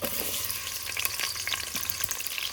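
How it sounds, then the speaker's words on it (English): Onions dropped into heated oil for a British Indian restaurant-style butter chicken, producing a loud, dense, crackling sizzle that stays steady and close for a few seconds, with no speaking over it. "Right, the oil is heated up. Let's add the onions."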